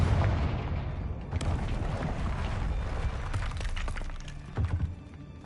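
Booming explosions and crackling blasts from the Confringo fire spell in the video game Hogwarts Legacy, dense and continuous, with a stronger low thump near the end and no talk.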